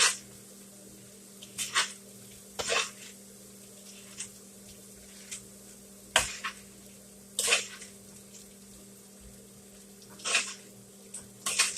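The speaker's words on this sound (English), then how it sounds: "Now I'm going to stir it." Flour mixture being stirred in a pan for a country breakfast, with sausage cooking nearby: intermittent scraping and clinking strokes at close range over a low steady hum, no talking.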